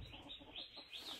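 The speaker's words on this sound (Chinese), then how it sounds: "山里面各种各样的鸟叫" Bird calls ring out in mountain woodland in early spring, a few short chirping and clucking notes in a quick run, faint and fairly distant.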